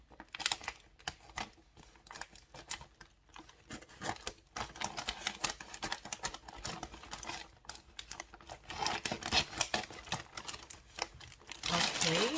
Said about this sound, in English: I am going to use my scissors and open this up